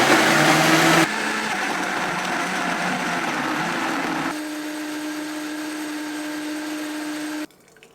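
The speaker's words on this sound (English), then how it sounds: "Vitamix, do your thing." A Vitamix blender blending a smoothie, a loud close whirring roar that steps down in intensity twice as the motor speed changes, then cuts off near the end.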